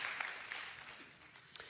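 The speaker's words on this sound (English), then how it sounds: "That deserves a clap, yes." Applause from a church congregation during a sermon, a fairly faint, steady patter of clapping lasting the whole short stretch with a couple of sharper claps standing out near the end.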